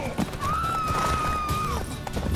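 A horse whinnies in The Witcher 3, one long sustained neigh holding a steady pitch before tapering off, with hoof clops and game ambience beneath it, fairly close and loud.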